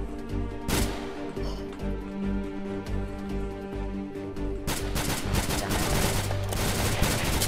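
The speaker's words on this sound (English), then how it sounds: "Heavy fire, we're under heavy fire" Heavy automatic gunfire in the Unturned 3.0 video game during a police boat shootout, a dense, continuous barrage of loud overlapping shots and impacts that swells again midway and keeps hammering to the end.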